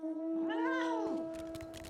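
A cat mount in Final Fantasy XIV lets out a single drawn-out, rising-then-falling meow lasting about a second, over a steady tonal game hum, followed by faint clicks.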